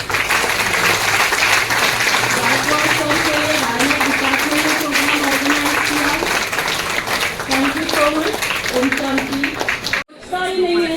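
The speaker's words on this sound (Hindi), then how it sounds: "जोरदार तालियां अपने लिए" An auditorium audience claps loudly for themselves, dense applause sustained for about ten seconds under a speaking voice, cutting off abruptly near the end.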